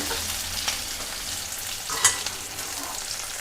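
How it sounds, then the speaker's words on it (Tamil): Onions sauté steadily in a hot pan before going into sambar, a continuous crackling fry with a couple of brief stirring scrapes, close up and with no voices. "இந்த வெங்காயம் ஒரு 2-3 நிமிஷம் நல்லா வதங்கினோன்னு"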